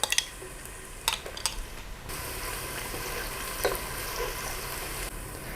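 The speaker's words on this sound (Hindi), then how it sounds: "अब इसमें डाल देंगे हम स्प्रिंग अनियन, इसका वाइट पार्ट, और इसे भी फ्राई करेंगे।" Spring onion whites and green chili fry in a pan for Chinese pulao: a few utensil clinks and scrapes at first, then an even, close, continuous sizzle.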